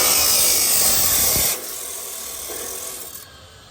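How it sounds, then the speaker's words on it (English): Harsh abrasive rasping close by as a metal hood part on a turbo Civic is sanded down, loud for about a second and a half, then dropping to a softer grinding. "I just gotta sand it down real quick."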